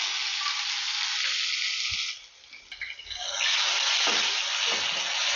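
Chopped medium tomato dropping into hot spiced oil with asafoetida in a kadai, a loud steady sizzle that dips briefly mid-way, then surges back as the pieces hit the oil and keeps crackling to the end.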